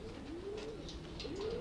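Pigeons in a breeding loft coo in soft, rolling phrases, one bird repeating a low throaty call twice at close range, with faint chirps behind.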